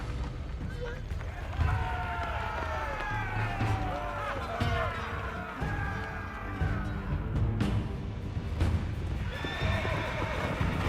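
Knights' horses charging in Age of Empires IV, repeated whinnies and neighs over thudding hooves and battle clamor, loud and layered, with a narrator talking over the action throughout.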